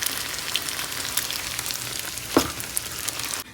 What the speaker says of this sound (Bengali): সব বড়াগুলো ভেজে নেব